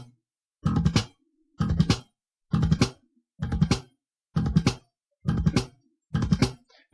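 A slap bass plays a machine gun triplet with left-hand clicks: seven short, punchy bursts of percussive slapped and plucked notes, evenly spaced about a second apart, with silence in between.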